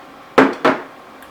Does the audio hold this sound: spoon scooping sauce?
yes